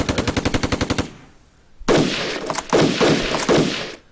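Video game defensive fire in a World War II tank battle scenario: a rapid run of about ten evenly spaced machine-gun shots, a short lull, then heavy, dense gunfire and booming blasts.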